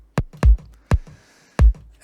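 Punchy 909-style kick drum sample, heavily compressed, hitting a few times in a loose pattern with booming low thumps and short clicky attacks, close and dry.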